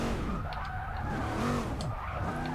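Tires squeal and skid as an Impala lowrider on stock tires power slides in Forza Motorsport 6, repeated looping screeches rising and falling over a steady engine drone, loud and close throughout.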